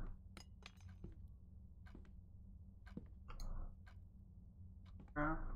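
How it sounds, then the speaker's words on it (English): Small clinks and ticks from an itch.io indie game, several sharp, light taps scattered irregularly over a quiet background, with a faint metallic ring near the end and a voice talking softly at points. "You heard that clink again though, right?"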